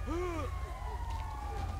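Ambulance siren in GTA5, a wailing tone sweeping up and down at moderate distance over steady low rumble, lasting under two seconds.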